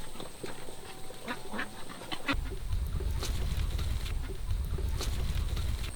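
Ducks quack repeatedly at a Filipino duck farm, a dense, busy chorus of many birds close by, rising in volume midway and continuing steadily with no talking.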